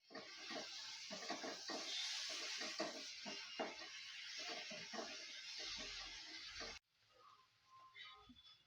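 Spice paste of chili powder, kasuri methi and ginger paste fries in a pan, a faint steady sizzle with soft stirring scrapes that cuts off abruptly, followed by quieter clinks.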